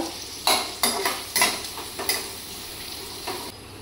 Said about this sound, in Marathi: कढई हलते ना त्याच्यामुळे आवाज येतो जास्त